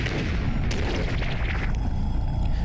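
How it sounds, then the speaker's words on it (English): Explosions tear through a crowd of monsters in the game Cataclysm: Dark Days Ahead, a dense, continuous rumbling barrage of booms and blasts with no pauses over nearly three seconds. "Just the explosions are just tearing through"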